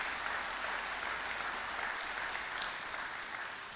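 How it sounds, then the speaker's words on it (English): A fire training class audience gives sustained, even applause for its training officers, a dense wash of clapping that holds steady throughout and eases off slightly at the end. "I'd like a quick round of applause for our training officers."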